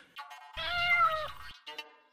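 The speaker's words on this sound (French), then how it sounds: "tu verras un chat qui te crèverait les yeux" A cat gives one clear, drawn-out meow close by, with a short softer mew just after, alone without any voices.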